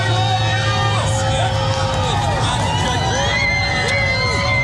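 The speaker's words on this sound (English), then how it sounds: "This is the crowd that's been outside the hospital where President Trump has been, and they are cheering and yelling and screaming" A large crowd of Trump supporters outside a hospital cheers, yells and screams, loud dense babble with whoops and shouts layered over a steady hum, voices rising and falling continuously.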